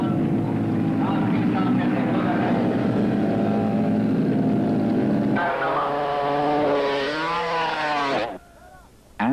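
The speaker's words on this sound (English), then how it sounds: "One of the attractions of the Horse and Cattle Show is the trick riding on motorcycles." Motorcycle engines roaring steadily during a trick-riding display at a rural horse and cattle show, loud and continuous, with the pitch rising and wavering as the bikes rev, then cutting off abruptly near the end; a voice speaks over it.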